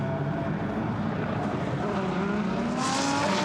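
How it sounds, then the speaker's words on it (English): GT race cars pulling out of the pit lane onto the Brands Hatch Grand Prix circuit for qualifying, a steady dense engine roar from several cars blending together, loud and continuous with a brighter rise near the end. "the green flag is waved at the end of the pit lane and the cars pull out onto the Brands Hatch Grand Prix circuit for Q2"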